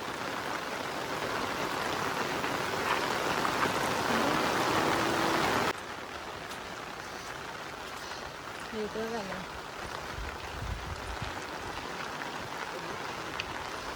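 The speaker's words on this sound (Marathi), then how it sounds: "आम्ही थांबलो आहे सगळे पाऊस येतो आहे" Monsoon rain falls over a Konkan village near a swollen river, a continuous dense hiss that drops slightly halfway through, with faint voices murmuring beneath.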